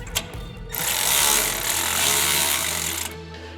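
A wrench tightens bolts on SuperSprings SSA5 helper spring plates during an install on a 2003 Ford F-150, producing a sustained close scraping, ratcheting grind for a few seconds after some short metallic taps.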